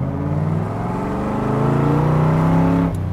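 A 1966 Chevrolet Corvette engine pulls and downshifts, a steady throaty drone with rising and shifting pitch, close and loud, cutting off near the end.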